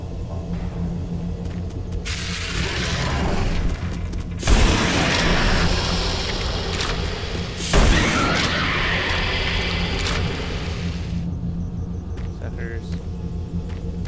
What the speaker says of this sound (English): I like the double shotgun for taking out these guys